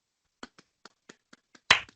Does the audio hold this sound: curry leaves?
no